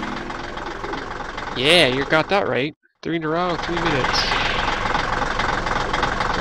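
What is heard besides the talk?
noisy tractor engine idling in Linden Shades video game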